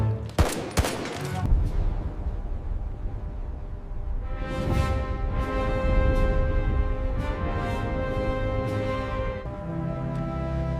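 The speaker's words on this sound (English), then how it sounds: "We need suppressive fire right now!" Sustained automatic gunfire from a World War II battle at Wizna, a sharp close burst of shots at the start followed by rolling volleys and rattling bursts that carry on without a break.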